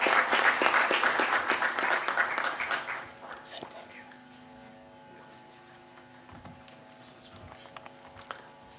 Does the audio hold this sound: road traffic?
no